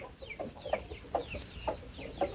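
A young Burmese rooster in a pen gives about five evenly spaced, moderately faint clucks, each short and rising, with no speech.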